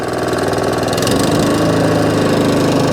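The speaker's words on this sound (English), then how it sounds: "That's the Allett Kensington 20K now all up and running with the Kawasaki engine running exactly as it should do." An Allett Kensington 20K cylinder lawn mower with a Kawasaki engine and a freshly cleaned carburettor runs close by, a steady, even mechanical chugging with no hunting or surging that gets slightly louder partway through.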